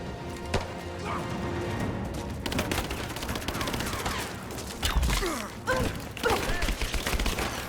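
Rapid gunfire rattles through a firefight in Rise of the Tomb Raider, dense bursts and single shots overlapping with impacts and crashes, loud and sustained throughout, with shouted voices briefly breaking through.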